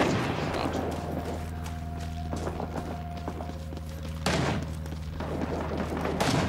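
Single rifle shots in Rising Storm 2 Vietnam ring out as sharp broadband cracks over a steady low drone, with a louder report near four seconds standing out from the ambient battle bed.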